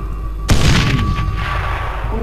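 A sudden loud blast from the zombie video game Dead Island Riptide hits hard, then rumbles and rings out over a couple of seconds against a steady game background.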